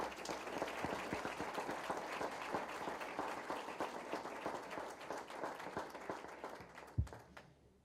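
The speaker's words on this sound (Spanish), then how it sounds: "Recibamos con un caluroso aplauso al autor de la obra, Juan Pablo Pozo Bahamonde" Warm audience applause welcoming an author at a book launch, a dense patter of individual claps that tapers off toward the end, with one sharp louder knock near the close.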